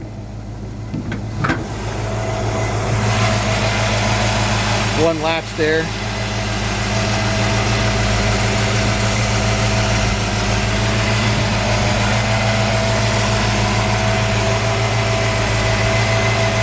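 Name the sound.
1957 Chevy 3100 truck engine idling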